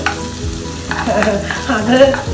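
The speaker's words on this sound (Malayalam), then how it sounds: "ഇഞ്ചി വെളുത്തുള്ളി ഇട്ട് കൊടുത്തിട്ട് അത് നന്നായിട്ടൊന്ന് മൊരിഞ്ഞ് വരും" Ginger and garlic sizzle and crackle in hot oil while a utensil stirs and scrapes the pan, loud and close.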